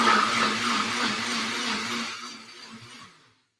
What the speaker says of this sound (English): I'm going to blend this in the Vitamix, not the Vitamix, the NutriBullet